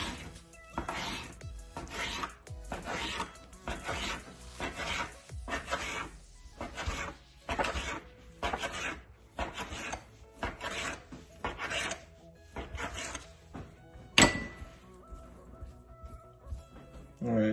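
A knife cuts bacon into small strips on a board, giving a run of rhythmic, evenly spaced slicing strokes that sound close, with one sharper knock near the end.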